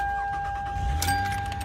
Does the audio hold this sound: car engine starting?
yes